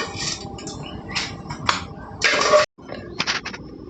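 A pan of fried dal lifted off the stove, giving a series of close metallic clanks and scrapes with a short louder rattle before a brief pause.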